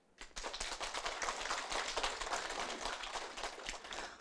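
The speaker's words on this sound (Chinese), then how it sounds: "我请大家很感恩的心为师父来鼓掌" A hall audience at a Buddhist forum applauds together in dense, sustained clapping that starts abruptly and holds steady for several seconds.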